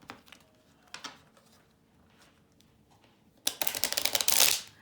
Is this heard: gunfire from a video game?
no